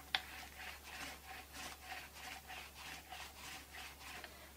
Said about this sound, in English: The nice thing about rolling is you can really get a varnish coat on really quickly and effortlessly.